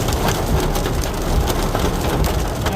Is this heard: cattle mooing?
no